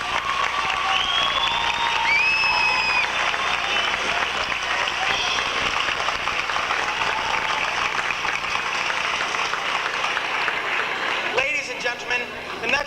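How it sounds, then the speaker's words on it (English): Sustained crowd applause from a high school theatre audience on closing night, honoring the production's crews and committees, steady and dense throughout before thinning near the end. "And now you may applaud for our fantastic crews and committees."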